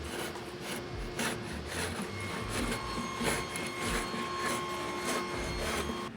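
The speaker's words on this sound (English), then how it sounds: "Now we're gonna move on to the rabbit planer, and I'm gonna be using that to very gently clean this edge up here." A rebate planer gently cleans the edge of a wooden boat transom with repeated rasping, scraping strokes in an uneven rhythm, close but fairly quiet with no one talking.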